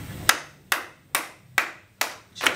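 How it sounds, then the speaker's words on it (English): An audience claps in unison at a live show, six sharp, evenly spaced claps roughly every half second, loud and close with no talking. "To give me a rhythmic clap at about this tempo."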